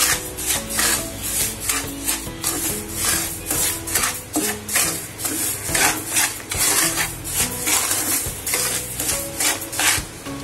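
Barnyard millet (bhagar) being roasted in a pan on low heat, the grains scraped and stirred in a loud, steady rasping rhythm up close, with no talking.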